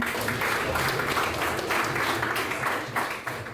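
A classroom of eighth-grade students bursts into dense, steady applause, many hands clapping close together at full volume before tapering off at the end.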